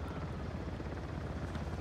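Continuous rotor thrum of a helicopter in Uncharted: The Lost Legacy, a dense, steady broadband chopping roar at moderate distance, with no voices over it.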